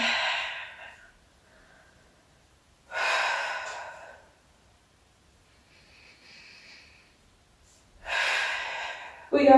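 Heavy breathing during a spine corrector Pilates workout, with three strong breathy bursts of inhale and exhale spaced a few seconds apart, close and loud, with quieter breath sounds between them.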